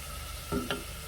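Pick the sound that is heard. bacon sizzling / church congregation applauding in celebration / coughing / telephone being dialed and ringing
bacon sizzling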